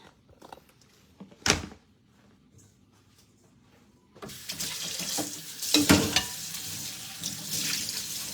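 Running water rinses leafy greens in a sink. A brief splash comes first, then from midway a steady, close gush of tap water with rustling and sloshing as the leaves are washed. There is no talking.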